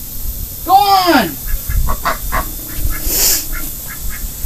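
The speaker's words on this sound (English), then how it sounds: "You know how you can tell the females in ducks? The females, just like with people, the females are the noisiest." Ducks quack near a rabbit-keeping setting in New Zealand, including noisy females: one loud, harmonic quack call stands out early, followed by fainter scattered calls amid background noise and muffled voices.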